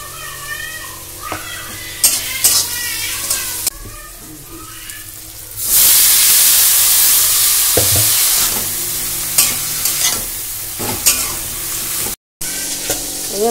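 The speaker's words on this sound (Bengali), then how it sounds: "এই যে পুঁটি মাছগুলো ভাজছি" Puti fish frying in a pan, a loud sustained sizzle that swells midway, broken by sharp clinks and stirring scrapes, with a few faint background sounds.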